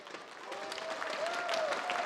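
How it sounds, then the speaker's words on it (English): Applause from an audience at the World of Warships WGL EU Grand Finals 2016 showmatch in Warsaw swells over two seconds, steady clapping with a faint tone running beneath it. "a big round of applause for your World of Warships challengers today"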